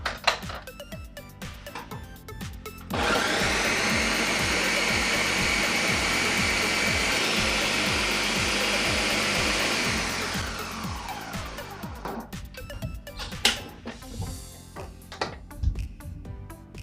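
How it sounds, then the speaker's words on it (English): A blender pulses a red wine strawberry sangria mix, a loud whirring motor roar running several seconds before winding down, with quieter kitchen clatter and handling before and after. "I'm just gonna put the lid on my blender and give it a good pulse."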